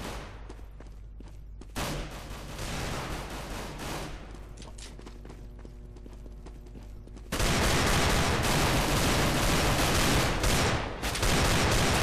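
Counter-Strike: Global Offensive gunfire, dense automatic bursts and rapid shots layered over game ambience, growing louder and more continuous in the second half, with no talking.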